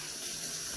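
Warm water runs steadily from a kitchen tap into a measuring container for bread dough, a constant close hiss and splash with no voices over it.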